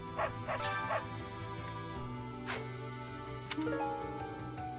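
Dog barking and yipping in the video game Fire Emblem: Three Houses, a few short barks over steady game music and ambience.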